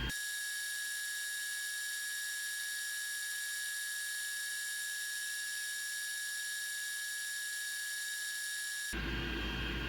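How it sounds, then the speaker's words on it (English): Steady high-pitched whine and broadband hiss of two air blowers running during laser engraving drones continuously, then abruptly changes to a lower rumbling noise near the end. "Sorry for the noise, but I got two blowers running"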